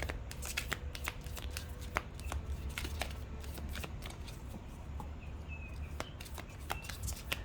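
A deck of tarot cards being shuffled and handled at close range, a steady run of riffling, flicking and slapping card sounds lasting several seconds with no talk.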